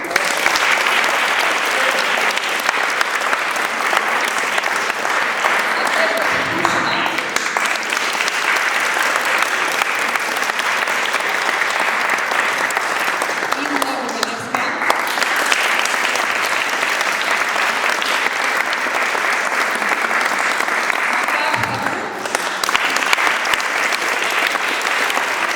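Sustained applause from an audience at a church event, a dense steady clapping that carries on for the whole stretch with only brief dips in intensity.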